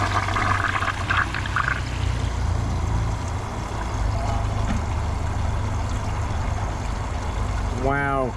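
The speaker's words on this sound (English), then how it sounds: "I'm gonna give it a second flush after the tank is full." A Kohler Highline Arc tall-tank toilet flushes, water rushing and swirling loudly at close range, then settling into a steady gurgling drain.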